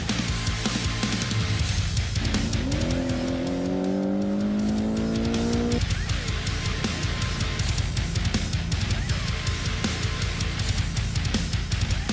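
A Porsche 718 Cayman T driven hard, its engine rising through the revs in a clear accelerating climb with gear changes, loud and close throughout over steady road and tire noise.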